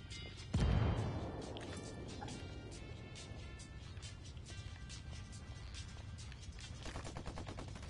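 Rebel gunfire rings out in a combat video game, starting with one loud, close shot that decays into a long echo. After it a faint, continuous rattle of distant shots runs under the game's ambient sound.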